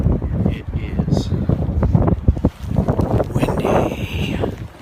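Strong wind gusts roar and buffet during a blizzard, rising and falling continuously at close range with rough, blustery bursts; there is no clear speech.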